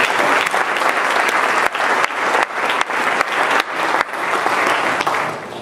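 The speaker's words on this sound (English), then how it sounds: "Let's give a round of applause to the people who organized this and worked this event this afternoon." Audience applause at a Beaumont, California State of the City event hosted by the chamber of commerce, loud and sustained from a large crowd, with dense overlapping claps and a few brief dips.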